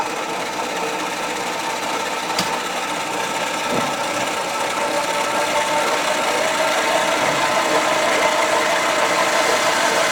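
A machine tool cuts metal at 150 RPM with a light five-thousandths depth of cut, giving a steady droning whir with a faint grinding edge and a couple of small ticks, with no talking.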